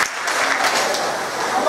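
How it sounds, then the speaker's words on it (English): An audience at a career event claps together in a brief burst of mixed, overlapping applause, fairly close and steady throughout the short moment. "If you hear my voice, clap once."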